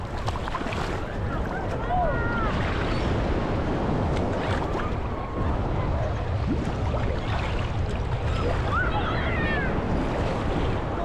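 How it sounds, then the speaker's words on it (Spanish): Ocean waves break and wash around a swimmer at Playa del Parque Fundadores, with rushing surf and wind noise up close and gulls crying in the background. "por aquí ya nos rompe la ola"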